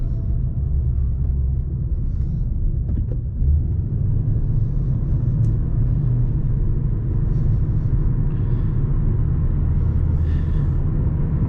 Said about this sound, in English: I will let you enjoy the point of view or night mode driving for Mustang GT 2014.